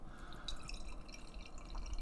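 Imperial stout beer is poured into a glass, giving a faint, steady liquid trickle with light dripping and glassy splashes throughout.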